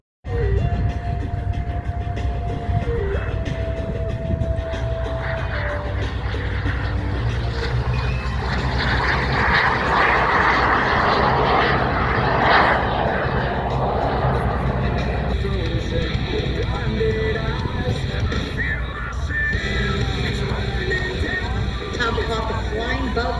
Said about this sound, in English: brings right in front of us the mini jet.